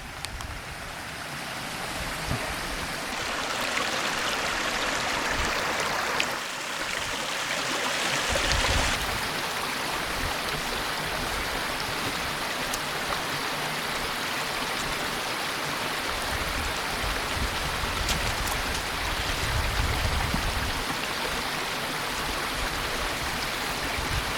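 A creek flows steadily over moss-covered rocks along a Napa Valley hiking trail, a continuous rushing wash of water that stays loud and even throughout with no voices.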